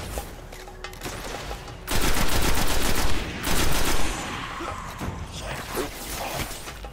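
Gunfire in the video game Destiny breaks out as loud, rapid volleys in two heavy bursts, then continues as lighter scattered shots, with a player talking briefly over it.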